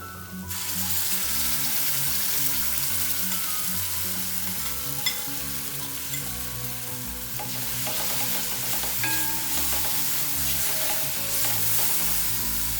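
A chili and turmeric powder mix sizzles loudly in a hot pan while being stirred, with a dense frying hiss and repeated scraping, knocking stirring strokes close by throughout.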